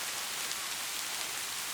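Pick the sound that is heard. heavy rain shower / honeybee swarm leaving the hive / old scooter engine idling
heavy rain shower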